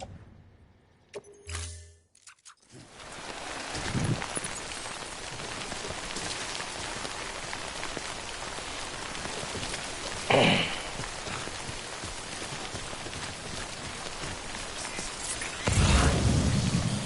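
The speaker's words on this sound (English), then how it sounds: "Damn rain." Steady rain falls in the video game Death Stranding, a dense, continuous patter across the scene after a brief quiet start, with a couple of louder rushes or rumbles rising above it.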